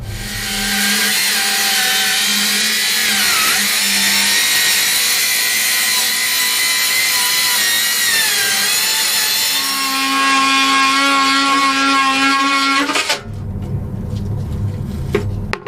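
A saw rasps steadily through a wooden boat deck while cutting the sugar scoops, loud and close, with a continuous grinding buzz that shifts pitch before stopping abruptly near the end.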